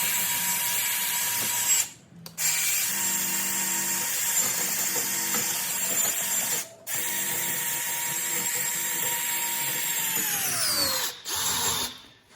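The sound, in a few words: grinding or wire wheel cleaning rust off Honda Pilot brake hardware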